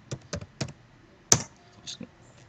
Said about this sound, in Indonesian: saya ketik admin